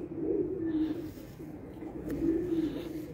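Pigeons in a loft setup cooing, soft low throaty coos repeating in two or three phrases against quiet background hiss, with faint voices nearby.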